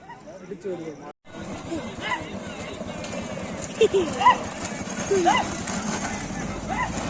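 Hooves of racing bulls pounding past at a bullock cart race in Ilangudi near Karaikudi, a steady clattering rhythm amid a noisy crowd, with people chattering and calling throughout.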